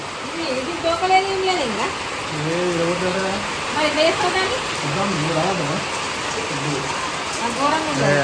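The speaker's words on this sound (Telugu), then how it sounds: "వర్షం ఫుల్ వస్తుంది" Heavy rain pours steadily during an outdoor family function, a dense, even hiss filling the whole stretch without letup, while several people talk close by over the downpour.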